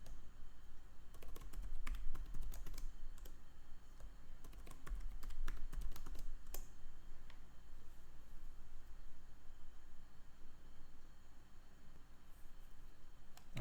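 Keyboard typing of a KDC database master key password, bursts of rapid clicky keystrokes near the start and middle, then quieter scattered taps over faint room hiss.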